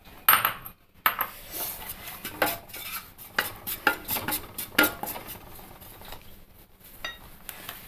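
A spoon stirs chili, coriander, turmeric and meat masala powders dry-roasting in a pan, giving irregular scrapes and light metallic clinks, close and fairly quiet, with no voices.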